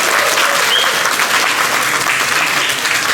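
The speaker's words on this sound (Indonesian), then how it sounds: "tepuk tangan buat KOR Pemprov NTT tadi" Dense, sustained audience applause for a provincial government choir at an NTT Mart Online launch event in East Nusa Tenggara, loud and steady throughout with no talk.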